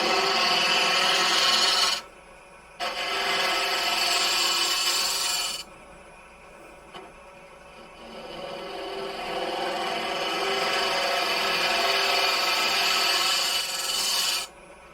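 A bowl gouge cuts into a spinning wooden box on a wood lathe, making a steady, close, hissing rasp that breaks off twice for a few seconds and then resumes. No voices are heard.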